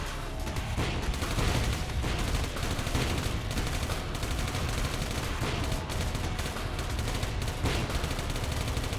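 Continuous heavy gunfire in a video game, dense rapid shots and blasts with no pauses, loud throughout.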